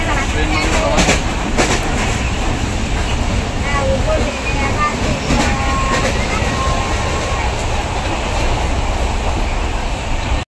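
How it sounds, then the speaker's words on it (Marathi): A passenger train, the Sindhudurg Express, rumbles and clatters as it moves off from Chiplun station, loud and steady, with people talking faintly in the carriage. "आता गाडी चिपळूणवरून सुटली."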